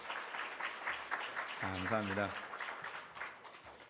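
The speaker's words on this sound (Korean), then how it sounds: "우리 방장님들 힘내시라고 박수해 주십시오" A church congregation at a Friday prayer meeting gives its group leaders a brief burst of applause, mostly heard beneath a man's ongoing speech.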